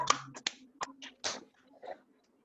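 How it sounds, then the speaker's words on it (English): A handful of sharp claps from a small group, scattered and uneven rather than sustained applause, in a quiet room. "Everybody clap for yourself."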